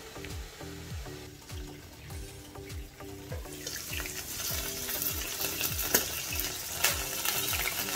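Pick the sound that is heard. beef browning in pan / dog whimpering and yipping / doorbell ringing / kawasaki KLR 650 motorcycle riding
beef browning in pan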